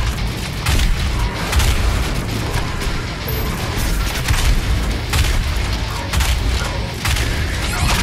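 Shotgun blasts in the shooter Doom Eternal, a dense run of loud booming shots and crashing impacts over a constant roar of combat, with no talk.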